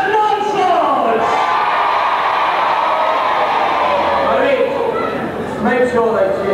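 At a jousting show, an audience roars and cheers for Sir Lancelot, a dense sustained din of shouting voices and battle-cry whoops, loud and close, swelling again near the end.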